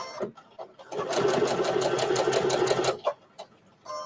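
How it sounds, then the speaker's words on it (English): A sewing machine stitches across fabric for a small pin cushion and scissor holder, starting with a few short locking-stitch bursts, then a steady rapid whir for about two seconds before stopping, with brief needle taps after; voice faintly nearby. "So I need to have a locking stitch at the beginning. And then stitch across."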